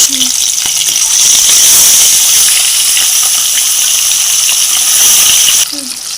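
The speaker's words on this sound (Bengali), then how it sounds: "আমরা কড়াইতে মাছ দিয়ে দিচ্ছি" Katla fish fries in hot oil in a wok with a loud, continuous hissing sizzle that holds steady, then eases slightly near the end, with a brief faint voice at the start and finish.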